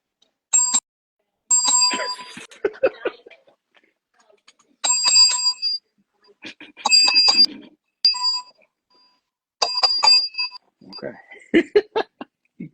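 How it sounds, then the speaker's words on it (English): A small hand bell rings in repeated short bursts with bright, clear tones, each followed by a pause. Someone laughs faintly near the end. "somewhere around here, I have a little bell"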